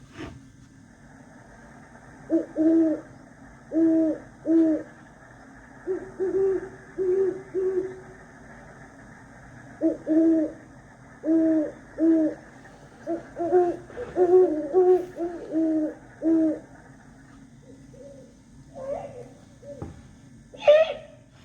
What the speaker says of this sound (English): Let's listen to a great horned owl.